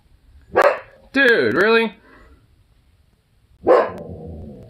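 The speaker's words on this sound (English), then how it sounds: "Damn dog." A dog named Zukov gives two sharp, loud barks about three seconds apart, close by, with a man's brief exasperated speech between them.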